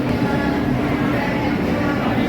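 A Narayanadri Express passenger train runs on the Tirupati–Lingampalli route, heard from inside as a loud, steady low rumble that is brief and continuous.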